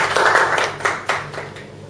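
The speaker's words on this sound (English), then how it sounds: "A round of applause." A workshop audience on everyday leadership skills gives a brief burst of hand clapping, with several close, crisp claps that fade out over about two seconds.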